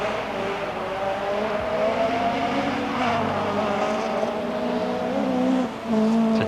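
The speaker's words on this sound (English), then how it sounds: "Sounds from the bark of that engine as though Mikkola really is trying." A 1988 Opel Manta rally car engine at the Race of Champions in France drones steadily and loudly with a gritty, rising and falling tone, heard alone without talk.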